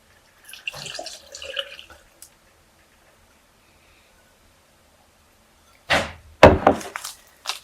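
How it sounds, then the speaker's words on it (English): Milk pours into a blender in a short gush lasting about a second, preceded by a few faint clinks and handling noises. "Pour it all in the blender"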